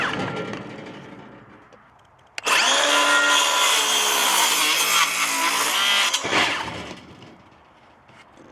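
A power tool trims overhanging wood on a chicken coop build, cutting in with a sudden loud whine that holds for about four seconds before dropping away to a lower hum.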